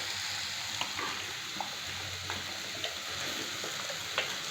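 Ground masala with Kashmiri chilli powder sautéing for a mutton vada curry, with a steady soft sizzle and occasional faint stirring clicks throughout.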